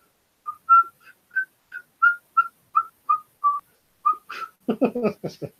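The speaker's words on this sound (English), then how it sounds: "If I whistle right, to me the tune sounds exactly like I'm whistling a tune" Someone whistles a short tune of separate clear notes at a steady pace, then a voice briefly talks near the end.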